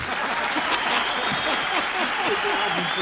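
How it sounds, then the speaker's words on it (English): Audience applause after a bluegrass song, a steady wash of clapping from a crowd holding at an even level throughout, with no voices over it. "It was a fitting applause too."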